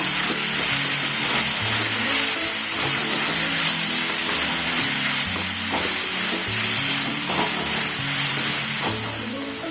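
Onions and chopped tomatoes sauté in a pan for paneer pasta, giving a steady, loud sizzle with a spatula stirring and scraping throughout.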